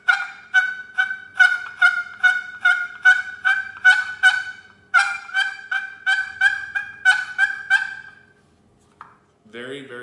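Louder yelping from a wooden box turkey call as more pressure goes onto the paddle: a steady train of sharp, raspy yelps, close and strong, then a pause and a brief clipped sound at the very end.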